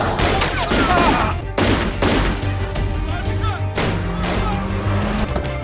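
Loud bursts of gunfire crack in rapid clusters amid a dense, rumbling background, with faint voices mixed in.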